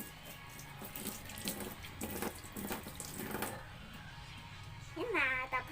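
A tap runs into a sink for dishwashing with a steady, fairly soft splashing stream that rises and falls, and a voice speaks briefly near the end.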